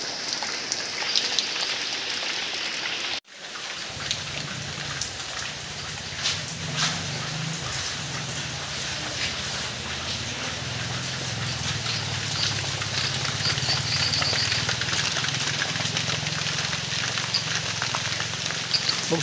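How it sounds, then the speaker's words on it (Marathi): Heavy rain pours steadily onto surfaces at a house in the Konkan, a dense, continuous hiss that swells louder after a brief break near the start, with a low rumble underneath and no voices. "बघू शकता जोरात पाऊस आहे"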